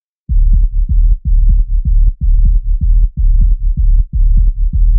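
Sub bass layer of a tech house bass line made in FL Studio, treated only with EQ and sidechain. Deep, loud, pulsing low notes repeat in a steady, rapid groove, ducking rhythmically between hits, with nothing else playing.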